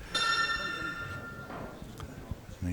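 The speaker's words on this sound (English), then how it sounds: "You heard that little bell in the background." A small shot-clock bell rings once during a professional pool match, a bright sustained chime heard clearly over quiet hall ambience and faint murmuring.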